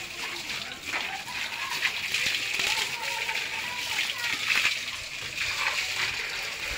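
Water splashes and sloshes continuously as cows are doused and washed outdoors on a hot, sunny day, a steady close wash of spray with faint voices underneath.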